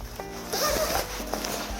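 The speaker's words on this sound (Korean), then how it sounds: "지퍼를 열고" A sleeping bag zipper is pulled open inside a Kia Sportage during winter car camping: one close, continuous zipping rasp of more than a second, with no talk over it.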